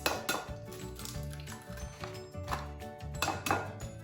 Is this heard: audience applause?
no